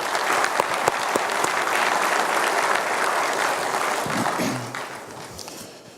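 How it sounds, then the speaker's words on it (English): An audience at a renewable fuels summit applauds its sponsors, the moderately loud clapping holding steady for several seconds before tapering off as the last few claps trail away. "Give them a round of applause."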